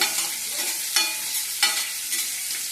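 Chopped onion and dried red chillies frying in a pan, a loud continuous sizzle and crackle with a few brighter spitting bursts as the pieces are stirred.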